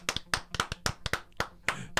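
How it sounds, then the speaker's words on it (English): A live audience claps along as movie nominees are read out, a series of sharp, separate hand claps in an uneven rhythm, fairly close, with a brief voice murmuring between them. "Clap or not if you care about these."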